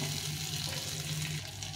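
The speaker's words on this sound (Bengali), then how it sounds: "একদম হালকা করে মাছটাকে ভেজে নিলাম" Shrimp sizzle lightly in oil in a pan, giving a soft, steady frying hiss with a faint low hum underneath and no talking.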